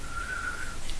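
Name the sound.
whistling imitating a bird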